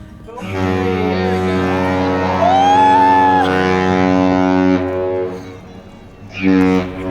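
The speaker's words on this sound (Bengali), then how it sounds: "এই যে এখন একটা বিশাল বড় জাহাজ এসেছে" A large ship passing under the Duluth lift bridge on Lake Superior sounds a long, loud, deep horn blast that holds for several seconds, followed after a short pause by a second, briefer blast.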